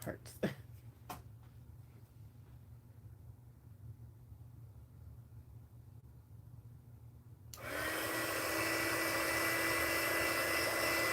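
A hair dryer blowing on watercolor paint starts after a stretch of quiet room sound and a few light taps, then holds a loud, steady whooshing roar to the end.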